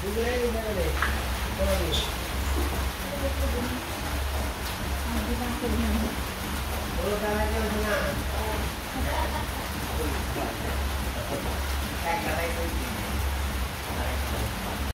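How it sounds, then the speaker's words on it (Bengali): Steady rain falling during a rainy spell at home, a continuous wash of noise under a person talking through most of the stretch, with a low hum beneath. "এই যে দেখেন বৃষ্টির অবস্থা সারাক্ষণ খালি বৃষ্টি আর বৃষ্টি"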